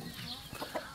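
Chickens clucking behind a farmhouse, a few soft, brief clucks amid a noisy outdoor background.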